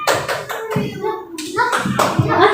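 A group of children in a classroom clap their hands together, a run of quick uneven claps mixed with the voices of kids and an adult talking.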